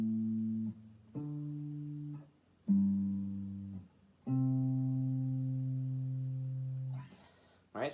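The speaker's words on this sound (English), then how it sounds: "just the bass notes for that progression will sound like this" Single plucked bass notes on a fingerstyle guitar trace a I-vi-ii-V progression, four sustained root notes each ringing and decaying before the next, the last held longest, followed by a brief scrape at the end.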